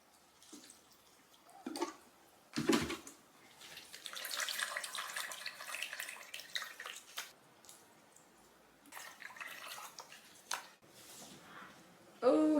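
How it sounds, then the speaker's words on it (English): Water poured into a houseplant pot's reservoir trickles and splashes in a few short bursts with a longer steady pour, close and fairly quiet, with soft handling noises between. "I've got actually some water here, so I'm just going to fill a little reservoir."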